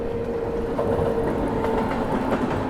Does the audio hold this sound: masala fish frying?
no